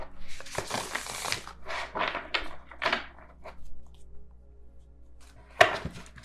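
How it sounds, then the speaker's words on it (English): A deck of Light Seers Tarot cards is shuffled close up in a quiet room, with several bursts of riffling and sliding cards, a pause, then one sharp tap near the end. "I'm going to try to shuffle the Light Seers Tarot."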